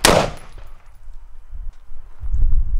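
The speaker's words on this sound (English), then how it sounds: "I just want to shoot the dirt." A single loud gunshot fired into dirt at an outdoor body armor test opens the sequence, a sharp crack with a decaying tail, followed by low rumbling handling noise and a rising low-frequency scuffle.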